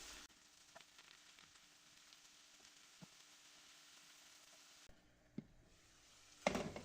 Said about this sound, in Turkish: Soğanlarla mantarı birlikte bir 5 dakika kadar kavuralım.